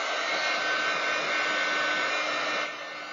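A hair dryer blows steadily and loudly up close to dry wet paint on a postcard, a constant whooshing roar that drops slightly in level near the end.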